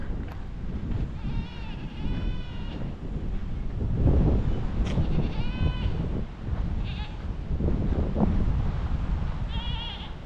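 Several goats bleating in short wavering calls near Juliette, Georgia, some close and some farther off, over heavy wind rumble on the microphone.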